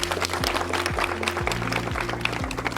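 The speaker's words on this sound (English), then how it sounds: "Advocate Thipanyane, another round of applause, please." Audience applause after an open lecture on social justice and transformation, a steady spread of clapping at moderate level with a low hum and repeating tonal sweeps running underneath.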